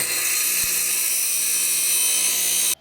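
Angle grinder smoothing the edges of a rough jigsaw cutout for a Honda Trail 90 project, a steady piercing high-pitched whine held for nearly three seconds before cutting off abruptly, loud and close with no talk.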